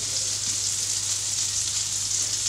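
Homemade breaded fish frying in hot butter gives a steady, close, dense sizzle and crackle that holds evenly throughout, with no talking.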